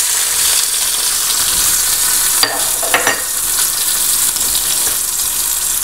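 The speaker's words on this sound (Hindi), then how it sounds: "इसके अंदर जो है ये प्याज डाल देंगे, क्योंकि प्याज जो हमने लाल करनी है।" Onions fry in a pot with a continuous, even sizzle, and a few clinks and scrapes of stirring break in partway through.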